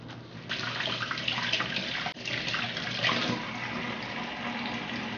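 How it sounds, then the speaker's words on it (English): Cold tap water runs steadily over raw beef tenderloin in a sink, a close, continuous splashing rush that briefly dips partway through, with no talking. "So I'm going to rinse quickly in the cold water."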